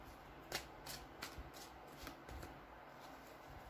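Tarot cards being shuffled in quick riffling bursts, soft and close, with a steady faint background hiss and no voices.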